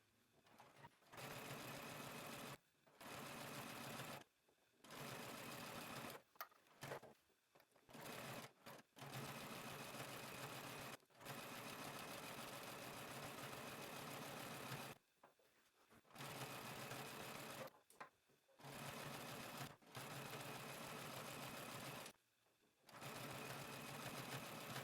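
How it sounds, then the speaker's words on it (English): A sewing machine runs a stretch stitch down a garment facing, working in repeated bursts of steady mechanical whirring split by short pauses. Faint and close, with no talking. "I'm going to go to my sewing machine and I'm going to use a stretch stitch"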